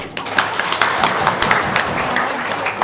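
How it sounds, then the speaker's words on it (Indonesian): A room full of people claps in a brief, even burst of applause at close range, with little talk over it. "Oke, tepuk tangan dong."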